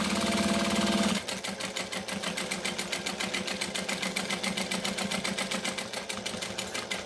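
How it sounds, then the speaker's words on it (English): A sewing machine bastes fabric within the seam allowance, a brief whirring burst followed by a rapid, even train of stitch pulses that continues steadily at close range, with no one speaking. "So I'm stitching within the seam allowance. Basting everything down."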